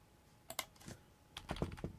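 Quick clicky keystrokes on a lighter Mac computer keyboard, a few taps then a denser burst of typing, close and fairly soft with no voices.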